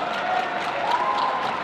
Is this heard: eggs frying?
no